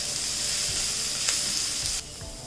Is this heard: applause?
no